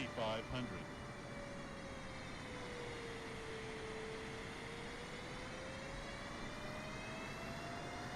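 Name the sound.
Boeing 747 engine in Microsoft Flight Simulator 2024 video game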